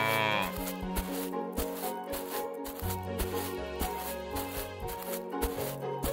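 Cattle and other farm animals moo and call in a video game, with layered game sounds and music running underneath the animal calls.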